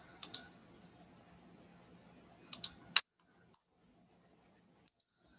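Computer keyboard keys tapped while drafting in AutoCAD, two quick clusters of sharp clicks about two seconds apart followed by near silence and one faint late tap.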